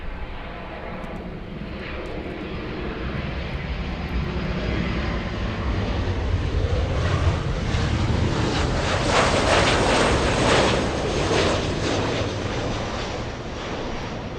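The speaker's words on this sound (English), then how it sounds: "We have United 199 flying in from Shanghai. That's a 787 Dreamliner." United Boeing 787 Dreamliner on final approach into LAX, a loud, steady jet engine roar with broadband rushing that builds slightly as the aircraft passes nearby, with some wind buffeting and no voices.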